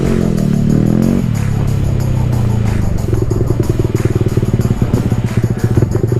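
A heavily modified Yamaha R15 V3 motorcycle with a loud aftermarket exhaust roars close up, first a smooth rising rev, then a rapid crackling, throbbing exhaust burble at steady speed.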